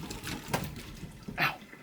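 Hot water from freshly boiled shellfish drains through a strainer in two short splashing bursts, near and moderately loud.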